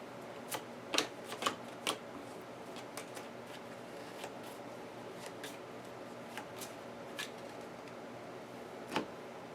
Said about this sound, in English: I'm going to shuffle this into the exploration deck